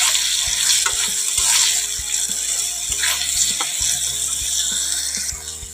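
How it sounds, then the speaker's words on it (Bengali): Prawns fry in a pan with added chili and turmeric powder, producing a moderate continuous sizzle with some stirring, under a persistent low hum and periodic low thumps. "একটু ভালো করে নাড়াচাড়া করে ভেড়িগুলো ভালো করে ভেজে নেব"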